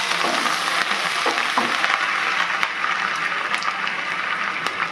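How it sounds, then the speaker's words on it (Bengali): Ginger, garlic, green chili and chopped onion hit hot oil in a pan for a chicken gravy, giving a loud, dense, steady sizzle with scattered crackles throughout and no talking. "এবার এই তেলের মধ্যে আমি এখানে যে কুচি করে রেখেছি আদা, রসুন, কাঁচা লঙ্কা আর পেঁয়াজ, সেটাই তেলে দিয়ে দেবো।"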